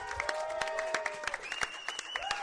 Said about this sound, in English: Round of applause for Ramon.